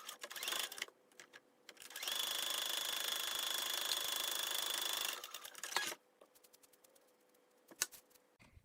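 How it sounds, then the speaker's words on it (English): A sewing machine stitches fabric for a zipped box cushion, running steadily for about three seconds with a fast mechanical whir, framed by brief starts, clicks and handling noises, fairly quiet and close. "I just cut this this fabric here, and I'm gonna sew it in the center."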